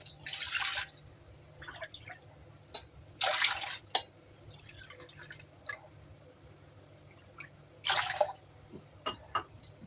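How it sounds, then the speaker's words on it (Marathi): Water is poured from a small bowl into a cooking pot in three short splashing bursts separated by quiet gaps, with faint drips in between. "आता एक पातेलं ठेवते आणि ज्या वाटीने मी रवा घेतला होता त्याच वाटीने मी पाणी घेते"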